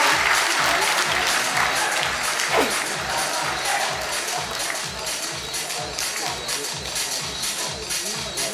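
Sustained audience applause fills a hall at a government award ceremony for a CWC Foundation Day event, many hands clapping in a dense, even rhythm that holds steady and close for the whole stretch.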